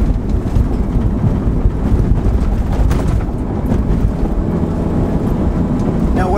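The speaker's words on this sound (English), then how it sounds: "there's a lot of road noise" Loud, steady low rumble of cheap all-terrain tires rolling on pavement inside a 2003 Honda Element with coilover suspension, a constant roar filling the cabin with no talking.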